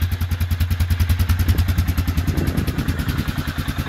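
A 2007 Suzuki Vinson 500 four-wheel-drive ATV idles steadily just after a cold start, its single-cylinder engine thumping in an even, rapid rhythm with light mechanical clatter, close and loud with no talk.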